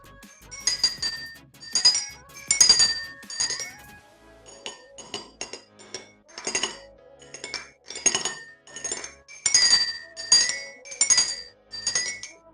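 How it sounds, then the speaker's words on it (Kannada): A glass rod taps a row of glass beakers filled with unequal amounts of water, producing a sequence of bright ringing tones at different pitches, struck one after another with short decays. "ಒಂದು ಗಾಜಿನ ಕಡ್ಡಿಯನ್ನು ತೆಗೆದುಕೊಳ್ಳೋಣ. ಈಗ ಇದರನ್ನು ಸ್ಪರ್ಶಿಸಿದಾಗ ವಿಭಿನ್ನ ಶಬ್ದ ಬರುತ್ತದೆ."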